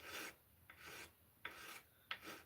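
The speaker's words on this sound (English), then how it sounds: "I'm sanding these flush" Close, quiet back-and-forth sanding strokes as metal pins on a slipjoint knife handle are worked flush, about four rasping passes with brief gaps between them.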